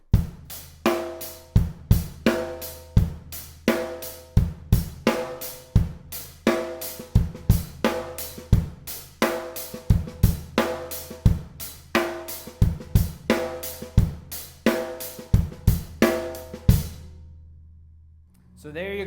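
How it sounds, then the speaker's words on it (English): A drum kit plays a steady rock beat with accented offbeats, first without and then with soft ghost notes on the snare, giving even, punchy hits that continue for several bars before ending with ringing decay. "2 measures without the ghost notes, then I'll add the ghost notes."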